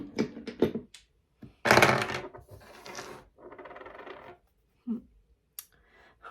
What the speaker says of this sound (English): I'll roll a couple dice here.